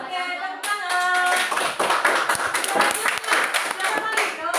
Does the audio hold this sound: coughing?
no